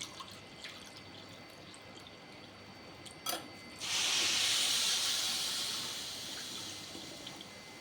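A steady hissing pour of hot water into a pan for rava kichadi starts partway through, loud and broadband, after a quiet stretch with a brief clatter, then slowly tapers.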